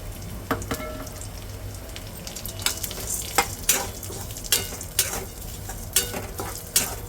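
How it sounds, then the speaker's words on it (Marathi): Chana dal frying in hot oil in a pan for poha chivda, a steady close sizzle with repeated sharp scraping and clinking stirs of a spoon against the vessel. "आता त्यात आपण हे चणा डाळ आहे ते देखील आपण टाकले."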